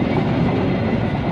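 A steady, heavy rumble of a cement freight train rolling along the track into a station platform at Cibinong, continuous and fairly close, with no voices.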